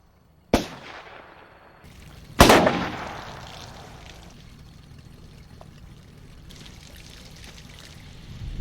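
Two sharp explosive blasts in a Breaking Bad scene, a short one and then a louder, longer one about two seconds later, each trailing off into a low rumble and crackling debris over a steady background.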